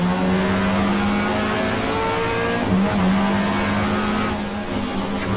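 Race car in the GTR2 racing game sliding sideways at speed: a steady loud engine drone with tire scrub and a brief squeal, nearby and with no voices.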